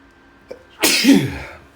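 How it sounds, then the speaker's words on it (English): A single loud, close sneeze bursts out after a faint intake of breath, then trails off. "I got to sneeze"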